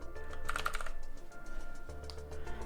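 Bursts of typing on a computer keyboard, quick clustered keystrokes near the start and again toward the end, close and moderately quiet with no talking.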